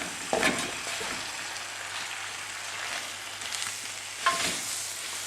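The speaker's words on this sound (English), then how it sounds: "So now just try and mix it a little bit." Wilting Swiss chard and leeks frying in a pan give a steady, loud sizzle throughout, broken by a couple of soft stirring scrapes as the greens are turned.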